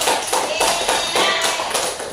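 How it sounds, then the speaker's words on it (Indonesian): A classroom of students claps for a classmate during a micro-teaching lesson, producing steady, fairly loud rhythmic clapping that pulses evenly throughout with no talking over it. "Terima kasih untuk Zahri, beri tepuk tangannya dulu."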